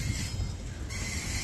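A Norfolk Southern AC4400CW locomotive train passes close by, with a heavy continuous rumble of wheels and a hiss of rail noise holding steadily throughout.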